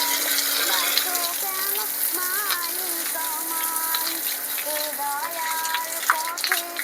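Water splashes and gushes steadily while a cowshed is washed down, with a constant low hum and scattered tonal chirps over the wash.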